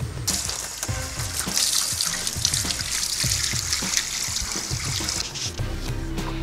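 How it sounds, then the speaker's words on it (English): Tap water runs steadily while a skinned catfish is rinsed under it, with splashing and rhythmic dull knocks as the fish is handled, close and fairly loud. "I'm going to rinse it off"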